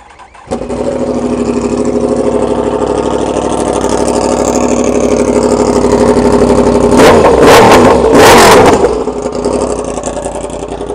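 A 2016 R1 motorcycle engine starts up and settles into a loud idle, then revs sharply twice before dropping back to idle.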